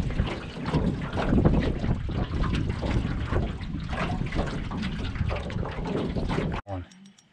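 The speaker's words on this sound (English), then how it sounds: "Got windy all of a sudden." Steady rushing wind buffets the microphone at a back lake on Ontario Crown Land, with a person talking over it, before cutting off abruptly near the end.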